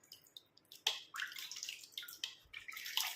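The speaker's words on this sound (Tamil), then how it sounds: "இதை நம்ம வாஷ் பண்ணி பார்க்கலாம்" Water splashing and dripping while hair dye is rinsed out of hair, irregular close wet splashes and trickles in short bursts, no talking.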